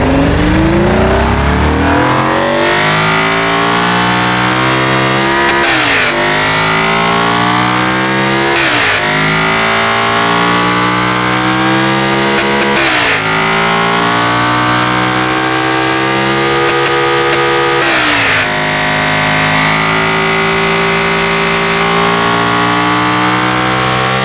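Car engine fitted with light bulb headers in the racing game Automation, revving repeatedly with rising pitch sweeps and sharp gear-shift drops, loud and continuous with no talk.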